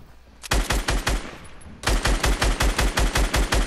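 Rapid automatic gunfire in a video game, two loud bursts of evenly spaced sharp shots separated by a brief pause, close and alone with no talk.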